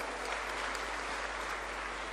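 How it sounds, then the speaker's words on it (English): Brief burst of audience applause for competition semifinalists at an entrepreneurship summit, a steady wash of fairly distant clapping at low level throughout the short stretch with no talk. "let's give them a round of applause"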